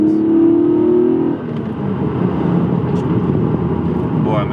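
Toyota Supra with a 2JZ engine and individual throttle bodies revs loudly on a road, a sharp rising howl that cuts off and settles into a rough, rumbling drone as it passes.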